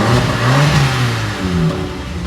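A Corsa C track car engine with a new Catalyst exhaust manifold revs up and down, a throaty rumble rising and falling in pitch, close and loud throughout.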